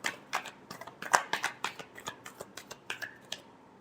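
Tarot cards are shuffled by hand in a quick run of crisp, papery riffles and snaps, about a dozen close, separate bursts at an uneven rhythm with no talking.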